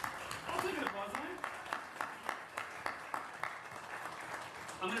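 A quiet burst of scattered clapping rises from the crowd at an afternoon ribbon cutting, uneven and fairly distant, with a voice speaking over it.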